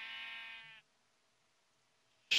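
A sheep in the Minecraft video game gives one short, clear bleat that cuts off into near silence, with a sharp burst right at the end.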